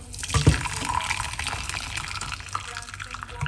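Cucumber tea with dried lime pours steadily with a splashy, trickling sound at moderate volume, and a short thump near the start.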